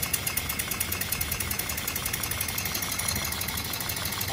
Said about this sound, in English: Built a steam engine.